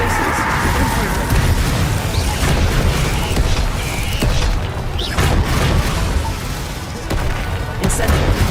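Spell explosions in Hogwarts Legacy come as a loud, dense stream of booms and crackling impacts with no pauses, while a voice shouts spell names over the din.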